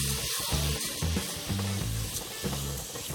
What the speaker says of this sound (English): I'm adding in the rice.